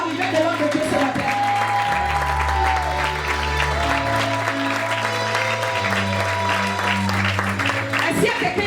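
Church congregation applauding and cheering to welcome a preacher, a steady wash of clapping mixed with sustained worship music and raised voices throughout.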